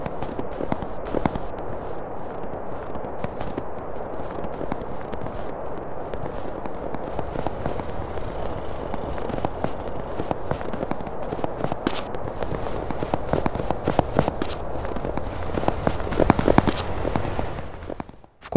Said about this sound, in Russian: Стандартные звуки шагов заменены на снежные.